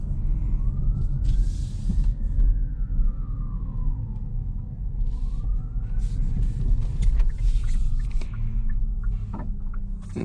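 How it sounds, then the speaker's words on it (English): Simulated engine sound from a Kia EV6 GT Line electric car in sports mode, a synthetic tone that rises and falls in two slow sweeps over a steady low road rumble, with brief bursts of other noise. "More engine sound now, more fake engine sound."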